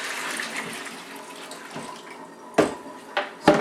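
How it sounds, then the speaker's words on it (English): Dirty water pours out of a carpet cleaner's tank in a steady close splashing stream, with a few louder splashes and glugs near the end and no talking. "Slowly pour it out."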